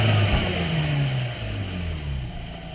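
A Mazda RX8 idles with a worn clutch throw-out bearing, giving a steady, close engine hum overlaid with a continuous rough scratching noise.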